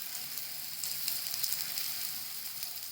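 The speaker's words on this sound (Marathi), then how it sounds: "आपण आता बेसन पोळा असा टाकून घ्यायचा आणि असं पसरून घ्यायचं आपल्याला." Thin besan pola batter of gram flour sizzles on a hot tawa over a gas flame, a steady crackling fry that is close but quiet, with no talking.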